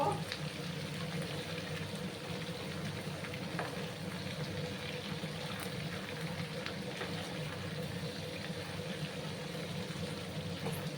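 Mixed vegetables with turmeric powder being stirred in a pan, a steady soft frying sizzle running throughout with faint scraping of the stirring, close and even, with no talk.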